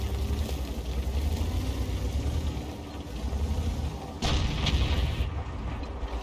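A 90mm tank gun on an AMX 13 90 fires in a video game, a sharp boom over a steady low engine rumble, followed by a second fainter report a moment later.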